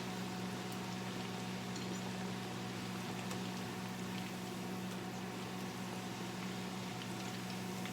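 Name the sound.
microwave oven running, warming bread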